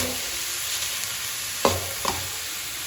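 Grated coconut frying in a pan with a little water and jaggery, a soft hiss under two sharp spoon scrapes, near and brief.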